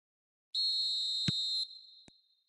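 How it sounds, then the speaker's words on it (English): A referee's whistle blows one long, shrill blast at kick-off in a football video game, followed by a few short clicks and thumps; no voices. "There's the whistle, and here we go."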